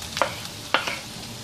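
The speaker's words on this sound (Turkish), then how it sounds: "Sebzelerim yumuşayana kadar arada karıştırarak pişiriyorum." Onion, garlic and green peppers fry in a pan, a soft steady sizzle broken by two short scraping stirs, heard up close with no talk.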